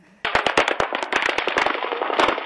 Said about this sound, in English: that's not fireworks, those are bullets